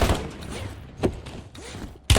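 Warzone gunfire sounds as a few dull, muffled shots and thuds at middling distance, with a sharper loud burst at the very end, over a low ambient rumble.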